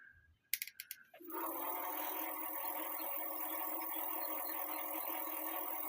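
After a few quick mechanical clicks, the motor of an Eahora Romeo Pro 2 e-bike at full throttle spins up into a steady, close whir that holds without letup.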